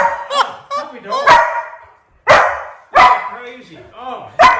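Excited puppies bark and yip in sharp, repeated bursts, loud and close, with a person talking over the commotion.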